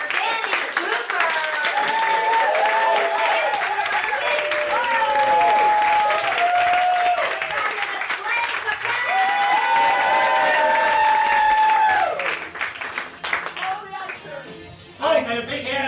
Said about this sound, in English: a big round of applause to all of the storytellers tonight